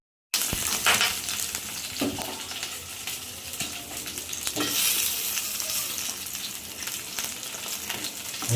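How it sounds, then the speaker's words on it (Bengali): Fish paturi cooks covered in a pan on the stove, giving a steady, close frying sizzle with faint stirring scrapes that carries unbroken for several seconds, with no voices. "এই যে আমাদের পাতুরি চাপিয়ে দেওয়া হয়েছে উনুনে, ঢাকা দিয়ে দেওয়া হলো।"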